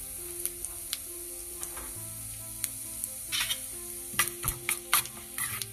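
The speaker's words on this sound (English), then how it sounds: "once the urad dal gets roasted, we will add curry leaves" Urad dal, cumin and mustard seeds roast in oil, giving a soft sizzle with scattered popping crackles that grow denser toward the end, under a low steady hum.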